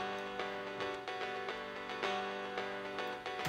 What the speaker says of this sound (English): this is the VST that I used for making the strumming